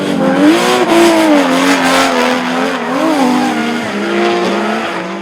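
Drift cars, a turbocharged Nissan Skyline chasing a Nissan S13 on Achilles Radial tyres at a Christchurch drift event, scream along with wavering engine revs and loud, continuous tyre squeal throughout.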